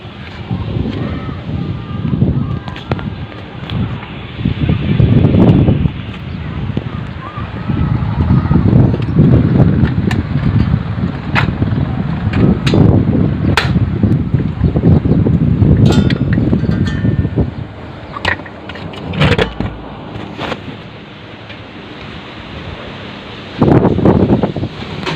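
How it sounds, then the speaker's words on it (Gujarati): Strong, cold wind gusting outdoors in a village, a loud, continuous roar buffeting the microphone in surging waves with brief lulls, heard without talk. "પવન બહુ ઠંડો છે"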